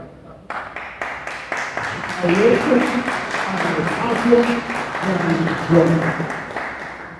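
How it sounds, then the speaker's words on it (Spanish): Audience applauding at a lecture hall event, steady dense clapping from many hands that swells and holds for several seconds before easing off. "si me siguen aplaudiendo"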